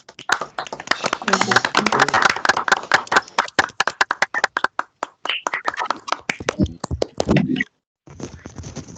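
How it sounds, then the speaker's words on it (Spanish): Applause from meeting participants coming through open microphones on a video call, a dense patter of claps that thins into scattered, uneven claps and a few snaps, broken by a short silence near the end. "los invito a todos a que abramos los micrófonos y le demos un aplauso a Orlando y a Wilson por su presentación"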